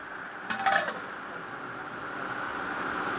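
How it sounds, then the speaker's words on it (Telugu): A metal lid goes onto a pot of vegetable biryani with one brief, ringing clank, followed by a low, steady simmering hiss from the covered pot. "దీన్ని మనము ఇలా కలుపుకొని మళ్ళీ దీన్ని నేను మూత పెట్టేస్తున్నాను"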